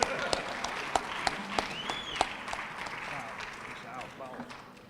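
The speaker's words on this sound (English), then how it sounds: "Give her a round of applause" A few scattered, sparse claps ring out at a press conference for a capital city classic event, faint and irregular rather than a full ovation.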